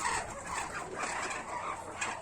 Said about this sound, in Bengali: আপনাদের দেখাইতেছি আমার হাঁসগুলা ঘরের ভিতরে